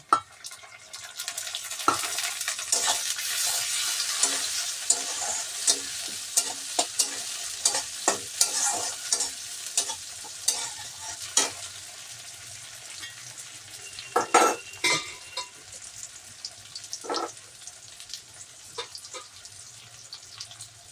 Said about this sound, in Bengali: পেঁয়াজগুলিকে একটু ভাজা ভাজা করে নিয়েছি দেখো এবার আমি এর মধ্যে টমেটো কুচনগুলিকে